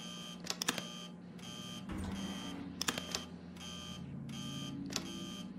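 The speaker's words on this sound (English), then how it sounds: "Why are you beeping? Why are you beeping?" Repeated electronic beeps in the video game Tin Can, short bright tonal bursts in several clusters over a steady low hum, fairly close and distinct.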